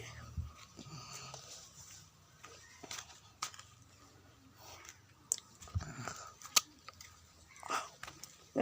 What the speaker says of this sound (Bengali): আমি পেয়ারা খাবো আর ভিডিও করব তো আমি এখন পেয়ারা খাচ্ছি